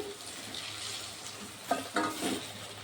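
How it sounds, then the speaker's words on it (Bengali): Pointed gourd fritters fry in hot oil with a steady, quiet sizzle. Several brief louder stirring or turning sounds come near the end. "এইভাবে লাল লাল করে আমি ভেজে নেব সবগুলো।"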